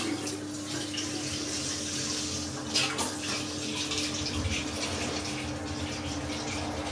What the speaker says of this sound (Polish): Zalewam ciepłą wodą.